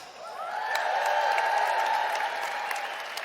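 An audience at a presentation breaks into sustained applause mixed with cheering, a dense steady roar of clapping that holds at full strength for a few seconds.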